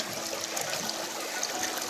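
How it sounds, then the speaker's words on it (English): Creek water trickles and burbles steadily in the San Juan National Forest as dandelion roots are washed in it, a close, continuous flow with no talk. "washing the roots off in the creek"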